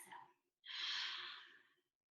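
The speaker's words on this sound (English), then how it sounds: "Open mouth, exhale." A single slow open-mouth exhale during a power vinyasa yoga session, a soft breathy rush lasting over a second after a brief short breath, close and quiet with no talk.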